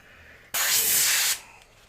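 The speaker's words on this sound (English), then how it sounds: "The nice thing about the Eclipse is the nozzle's so big it'll probably still spray." An Eclipse airbrush fires one short burst of paint spray, a loud, close, even hiss lasting under a second before cutting off.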